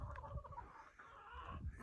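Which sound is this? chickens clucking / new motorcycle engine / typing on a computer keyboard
chickens clucking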